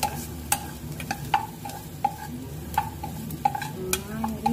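Spicy pork with shrimp paste, bagoong, in coconut milk is stirred in a pan: regular, sharp utensil clinks against the metal repeat every half second or so over a faint, steady sizzle.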